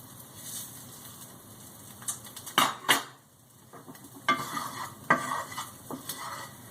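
Seasoned beef fries in a pan over low heat for a Philly cheesesteak, with a soft steady sizzle broken by several sharp scrapes and clanks as a utensil stirs the meat against the pan.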